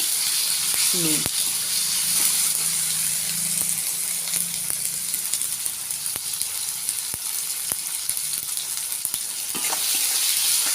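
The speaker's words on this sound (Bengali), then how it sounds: "টমেটোটা ভালো করে ফ্রাই হয়ে গেছে।" Chopped tomato with a pinch of salt sizzles steadily in hot oil in a pan, a continuous loud frying hiss broken by sharp scrapes and taps of a spatula stirring it.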